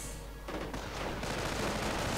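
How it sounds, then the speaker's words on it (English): Rifle and machine-gun fire crackles in a strategy video game as riflemen come under fire, a dense continuous fusillade of shots and distant booms filling the whole stretch without talk. "Riflemen here coming under fire."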